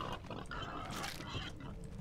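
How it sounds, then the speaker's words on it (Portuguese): Wild boar grunting in a farming video game, a short burst of rough, close grunts and snorts with no talk over it. "Olha um Java porco ali, ó."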